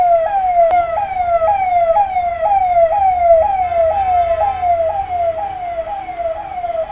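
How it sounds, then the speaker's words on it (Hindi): An ambulance siren wails on a road during heavy rain, loud and close, its rising-falling yelp repeating rapidly and steadily over a low traffic rumble, with no talking. "और यहाँ पर एम्बुलेंस आती हुई"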